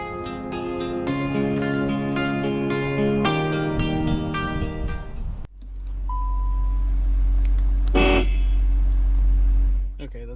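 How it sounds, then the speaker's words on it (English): A loud, sustained aftermarket dual high-and-low car horn on a Volkswagen Jetta MK7 blares twice near the mic, first a long steady honk, then after a brief break another long blast under engine rumble. "a high and a low horn from Harbor Freight"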